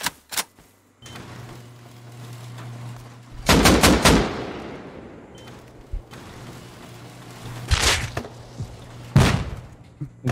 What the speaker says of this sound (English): They're shooting GLs at me now.